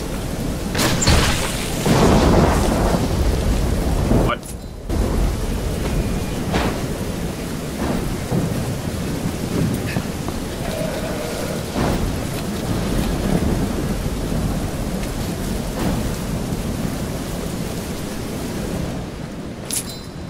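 Heavy rain pours with rolling thunder, a loud steady hiss of falling water punctuated by deep rumbles and a sharp crack near the start, continuing without voices for about twenty seconds.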